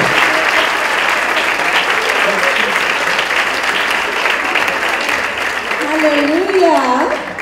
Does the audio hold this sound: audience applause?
yes